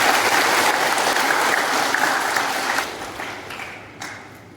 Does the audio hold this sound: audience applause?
yes